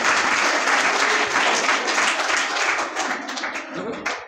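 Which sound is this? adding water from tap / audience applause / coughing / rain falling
audience applause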